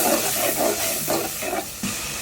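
Green chilies, onion and red chili powder fry in a pan with a steady, close, moderately loud sizzle and hiss, with no talking.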